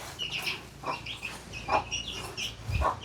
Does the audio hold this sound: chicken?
yes